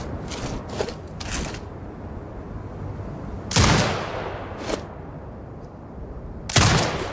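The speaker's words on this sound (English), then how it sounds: "command the turret to fire" A mounted turret fires in Sniper Ghost Warrior Contracts 2 during boot camp in the Grey Desert, loud separate bursts of shots with quieter gaps of mechanical hum and settling noise between them.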